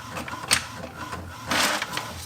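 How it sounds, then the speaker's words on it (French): A home printer runs off a sewing pattern page, its mechanism whirring in short bursts with louder passes of the print head near the middle and end, close and clear with no talk. "Allez, imprimons tout ça. On va juste imprimer la page 2"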